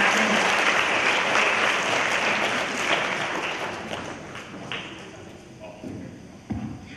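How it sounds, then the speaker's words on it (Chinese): Audience applause at a school alumni event honouring basketball player Chen Jianzhou, sustained clapping from a crowd that gradually thins and fades, with a few louder isolated claps near the end. "我们再次掌声谢谢我们陈建州校友啊"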